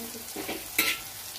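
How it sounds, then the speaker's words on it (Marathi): Brief stirring scrapes over a soft sizzle of coriander leaves frying in hot oil tempering for poha, with one sharper burst of crackling partway through. "कोथिंबीर पण छान परतून घ्यायची आहे।"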